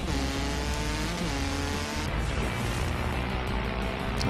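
A motocross bike engine in the video game Motocross Madness drones steadily and loudly throughout, a dense buzzing rev with continuous harmonic whine and no pauses.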